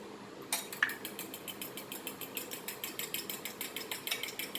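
A whisk or fork beats eggs in a bowl for a plain egg drop soup, a quick steady run of clinking strokes against the bowl's side, close and clear with no talk.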